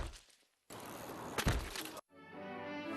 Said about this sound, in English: an overused, unfunny thud